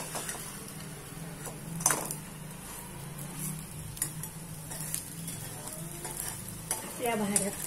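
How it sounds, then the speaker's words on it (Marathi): Food shallow-frying in ghee sizzles continuously in a pan for a Navratri festival thali, with close stirring scrapes and occasional utensil clinks over the steady hiss. "ही भाजून घेतल्यानंतर ही अशी छान तुपामध्ये शॅलो फ्राय करायची"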